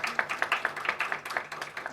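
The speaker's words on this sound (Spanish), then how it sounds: "Un aplauso a Cristóbal, por favor." An audience claps for a speaker being invited up at a literature colloquium, a brief run of fairly quick, distinct handclaps from a modest crowd at moderate loudness.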